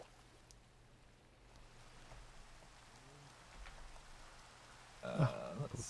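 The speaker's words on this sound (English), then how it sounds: "At some point, the rain will stop." Steady rain falling in the Minecraft video game, a soft continuous patter at low level, joined near the end by a brief louder burst of other game sound.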